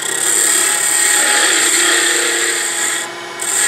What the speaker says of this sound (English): So I'm going to use the bowl gouge.